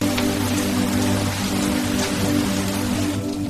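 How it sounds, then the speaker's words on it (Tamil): Steady rain falls over the Ooty hills in the mountains, a dense continuous patter of drops with a low hum beneath, close and even throughout with no voices. "மழையிலே மலை சாரலுடன் ஒரு அழகான நாள்."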